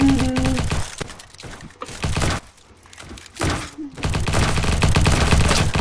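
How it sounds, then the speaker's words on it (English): Gunfire in the video game Bad Business, loud bursts of rapid automatic shots broken by short silent gaps, then a sustained volley at the end. "we're being shot from the back"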